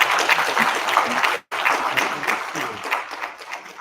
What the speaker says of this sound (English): If we could please give Angela another round of applause.